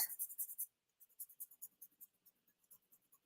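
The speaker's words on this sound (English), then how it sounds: "I'll get my mono sand eraser and I'll just erase those off" Rubbing strokes of a Mono sand eraser on paper during a card-stamping session, a quick run of close, soft scrubbing bursts, a brief pause, then a longer rhythmic series of short strokes, with no talking.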